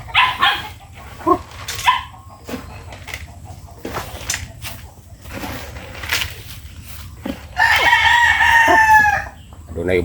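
Backyard chickens cluck and a rooster crows in a busy outdoor yard, with a dog barking in bursts among them; the fowl calls grow loud and sustained near the end.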